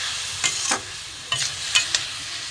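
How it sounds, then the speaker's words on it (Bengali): Masala and boiled potato fried in a pan for a banana flower chop filling, a soft sizzle under several sharp scrapes of a spatula being stirred through, close and clear. "আলু সেদ্ধটাও দিয়ে দিলাম দিয়ের সাথে আমি কষিয়ে নেবো"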